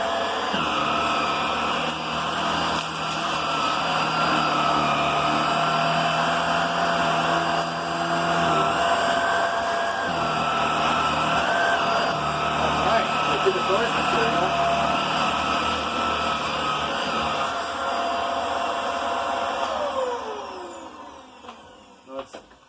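A Hoover WindTunnel Air Steerable upright vacuum cleaner runs with a loud, steady whine and roar for about twenty seconds, then powers down with a falling pitch near the end.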